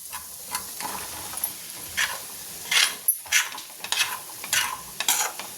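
Sliced bottle gourd tumbles into a pan of frying potatoes for an aloo fry, bringing close, bright sizzling with stirring scrapes and several louder bursts of crackle in the second half; nobody speaks.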